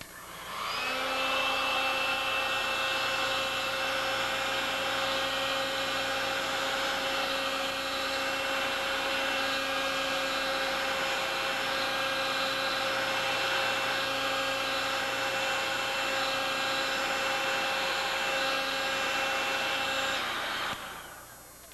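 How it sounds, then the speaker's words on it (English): A hair dryer blows steadily at close range on a painting for about twenty seconds with a constant whining hum, then switches off. "So I'm going to quickly dry it off with the blow dryer"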